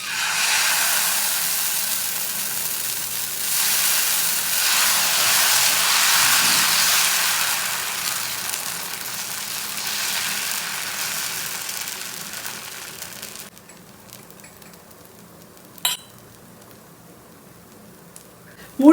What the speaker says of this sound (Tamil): இப்போ நம்ம தோசைக்கல்லில் தோசையாக இதை வார்த்து எடுத்துக்கலாம்.